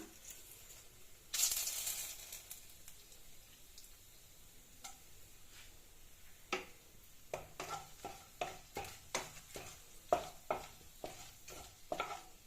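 Bay leaves, dried red chillies and whole garam masala frying in hot oil, a faint sizzle punctuated by a sharp hiss burst early on and then a rapid series of spatula taps against the pan.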